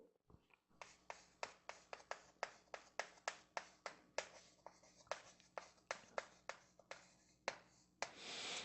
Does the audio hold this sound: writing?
yes